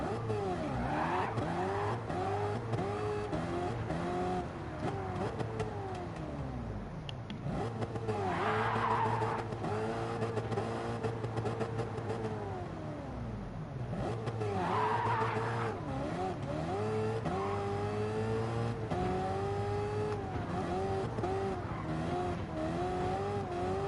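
A Chevelle race car in Gran Turismo 7 revs hard and holds a steady engine drone for a long stretch, with brief tire squeals and pitch swells as it accelerates, loud and close throughout.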